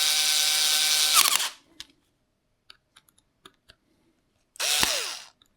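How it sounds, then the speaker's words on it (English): A Bosch electric screwdriver fitted with an adjustable torque adapter tightens wheel hub bolts on beadlock wheels in two short, close whirring bursts. Soft clicks and taps of handling the parts fill the quiet gap between the bursts. "I like to use this Bosch electric screwdriver to apply an even torque to all of the bolts after tightening everything up by hand"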